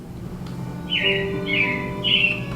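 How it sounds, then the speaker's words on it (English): Robins chirping, three clear bright calls spaced about half a second apart over a low steady background hum. "It looks like the Robins are getting ready to celebrate Valentine's Day today."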